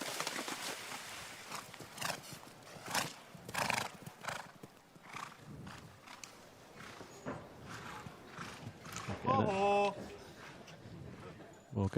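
A show jumping horse gallops on a competition course, its hooves clip-clopping in quick rhythmic bursts under continuous commentary, with a loud whinny toward the end.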